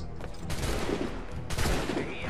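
Rapid bursts of gunfire from the video game Assassin's Creed III crackle and pop continuously, dense and loud, with a few voices mixed in underneath.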